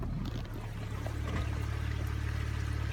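Water pours steadily into a drainage pipe beside a roadside ditch after storm damage, a continuous close rushing wash with no voices.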